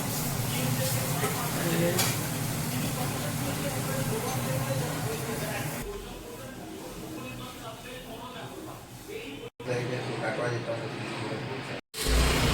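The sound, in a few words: cooking, frying and stirring in a kitchen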